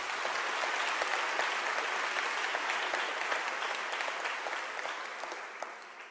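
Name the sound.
audience applause for panel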